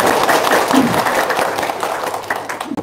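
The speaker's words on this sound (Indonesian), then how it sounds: "Tepuk tangan dong." Audience applause at an Indonesian gathering, a burst of crowd clapping that swells at the start and gradually thins out toward the end.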